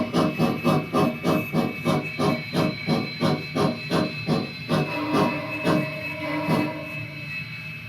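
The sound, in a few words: model steam locomotive sound from Kato Sound Box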